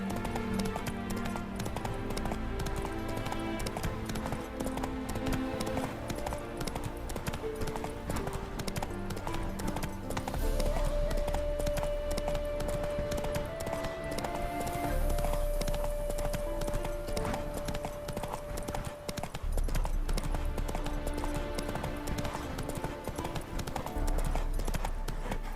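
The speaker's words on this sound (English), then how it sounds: "Spooking my horse." Horse hooves clip-clopping steadily in The Witcher 3: Wild Hunt, a continuous rhythmic trot over a game music bed, with a brief whinny.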